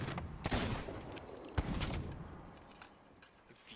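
Sea of Thieves pirate-game combat gives a burst of gunshots and explosive bangs, several sharp blasts followed by a rumbling tail that fades gradually, fairly loud and without talking over it.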